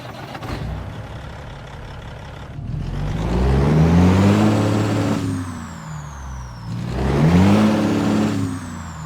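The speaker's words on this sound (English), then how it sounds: "let's get our Peterbilt 389 started up and get on the road" A Peterbilt 389 semi truck's Caterpillar C15 diesel engine in American Truck Simulator rumbles loudly and revs up twice in long rising surges, settling back to a deep idle between them.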